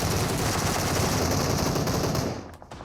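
Rapid automatic gunfire rattles continuously in a video game battle, a dense close burst that cuts off abruptly near the end, leaving a few faint trailing shots.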